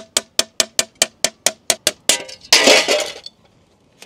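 Glass greenhouse pane being tapped into its frame, about a dozen evenly spaced sharp clinks in a steady rhythm, followed by a louder scraping rush, with no talk.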